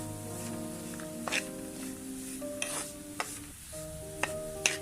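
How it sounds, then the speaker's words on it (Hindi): Semolina roasting slowly in ghee in a pan for panjiri hisses with a soft, steady sizzle while a spoon stirs and scrapes through it, giving occasional sharp metallic taps; no one speaks. "अब ये सूजी की बुनाई हो रही है, इसको मैं आस्ता आस्ता इसी तरह भूनूंगी।"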